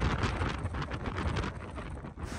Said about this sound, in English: the wind and rain is completely sideways